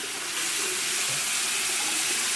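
Running water from a tap rinses a Glamglow bubble sheet mask off a face in a hotel bathroom, a steady, close hiss of flowing water with no break.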